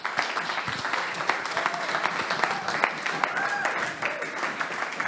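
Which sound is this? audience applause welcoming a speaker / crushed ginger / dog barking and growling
audience applause welcoming a speaker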